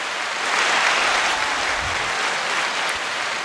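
Applause sound effect: a dense, even wash of many hands clapping at once, fairly loud and steady for a few seconds with no talking over it.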